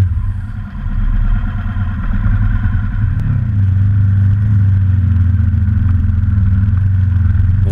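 A KTM 950 motorcycle engine drones steadily and loudly while climbing a rocky trail, with a brief clatter and a rise in engine pitch partway through as the bike rounds a sharp corner; no talking.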